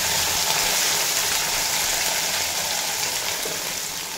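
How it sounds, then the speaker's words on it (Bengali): Mourala fish coated in salt and turmeric dropped into hot oil, a steady loud hiss and sizzle of frying that holds evenly throughout with no talking. "এবার যে মোরলা মাছগুলোতে আমি লবণ আর হলুদ মাখিয়ে রেখেছিলাম সেগুলো দিয়ে দেব।"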